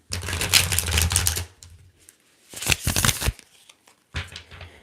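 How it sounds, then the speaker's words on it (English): Tarot cards are shuffled in three quick riffling bursts separated by short pauses, close and crisp with no talking. "let me shuffle one more time"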